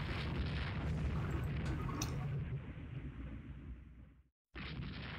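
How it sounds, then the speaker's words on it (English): A torpedo strikes a warship in the naval strategy game Rule the Waves 2, a loud rumbling blast that roars and slowly fades, cuts to a brief silence, then rumbles again. "I'm only hit by a torpedo"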